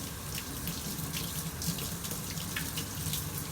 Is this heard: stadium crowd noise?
no